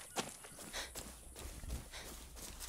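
Horse hooves clip-clop in the video game Far Cry 6, soft and faint, with a few uneven strikes over quiet game ambience.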